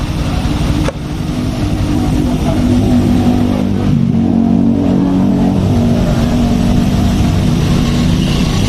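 A Honda Scoopy motorbike engine with a dead electrical fault, heard up close as a loud steady idle that is briefly blipped and then held at raised revs while the charging is checked.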